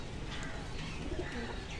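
Pigeons in a loft, soft cooing murmurs running continuously under a faint background hum, close and gentle.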